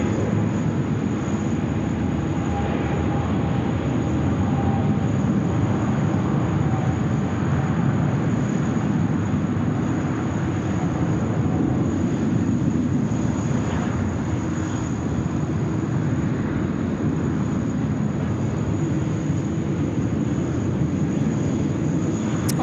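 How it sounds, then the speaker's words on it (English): A Philippine Airlines Airbus A350-900 rolls down runway 16R at Sydney Airport on takeoff, a loud, steady, broadband jet engine roar that holds throughout without any talking. "359, one of my favourite aircraft now, just prancing down the runway."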